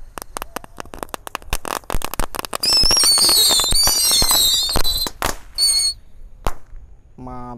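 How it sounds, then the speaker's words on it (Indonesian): A full pack of minitor rocket firecrackers goes off at night in a rapid string of sharp pops and crackles, then shrieking whistles and loud bangs, tapering to a few final cracks; nearby, close and loud. "Selanjutnya yang kita nyalakan adalah mercon roket minitor guys. Kita nyalakan satu pak sekaligus."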